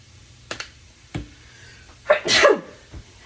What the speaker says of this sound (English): That seasoning made me sneeze.